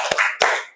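Children in a classroom doing a rhythmic clap chant, two sharp group claps in quick succession, close and loud with no talking.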